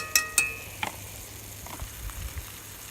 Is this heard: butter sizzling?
yes